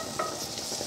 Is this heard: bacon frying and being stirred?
yes